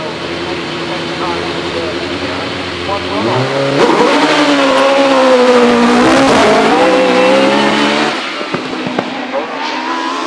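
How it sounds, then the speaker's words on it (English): A Gould GR51 hillclimb car with a 4-litre methanol-fuelled engine accelerates hard up the finish straight at Shelsley Walsh, its loud engine rising in pitch through the gears as it passes close by. "Phenomenal torque from the methanol-fueled 4-litre jug propels the Gould up the finish straight"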